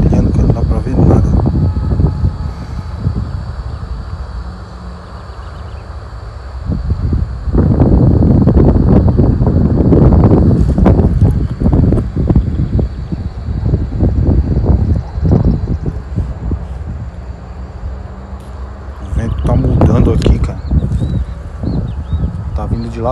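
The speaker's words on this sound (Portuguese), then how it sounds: "Lateral o vento, tá dando até pra sentir aqui" Strong crosswind rumbles and buffets the microphone outdoors while a Zino Mini Pro drone is flown toward the Santos channel. The loud, gusty roar runs throughout and swells in bursts, with a person talking over it.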